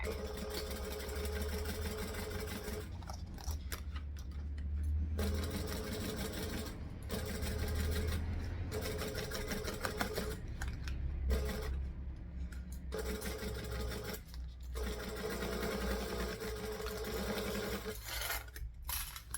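A sewing machine stitches at 2.5 stitch length with a magnetic seam guide while a Mini Alice garment is sewn; the close, steady mechanical whir runs in long bursts broken by short pauses, with no voices.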